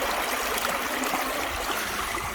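Water runs steadily through a Dream Mat gold sluice at roughly three-quarters of an inch to an inch deep, giving a constant, close, rushing gurgle with no pauses.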